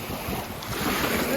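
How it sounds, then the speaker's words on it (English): Strong wind at a beach buffets the microphone in a steady, loud rumble, with a faint wash of surf beneath it and no clear speech. "It's getting even more windier."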